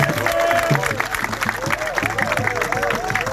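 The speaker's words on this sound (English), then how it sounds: "let's give them a resounding applause for being here for us" A crowd at an Edo APC political rally applauds and cheers loudly while music with a repeating bass pattern plays, and voices babble throughout.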